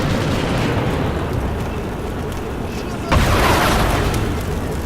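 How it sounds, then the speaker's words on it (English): A battlefield explosion in the wargame Combat Mission Black Sea on the Kiev Reservoir map, a sudden loud boom that lands midway through a continuous rumble of game noise and then holds as a heavy, sustained roar. "Just saw an explosion back here in the left center."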